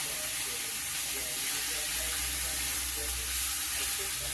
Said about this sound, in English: I just brown them on both sides first.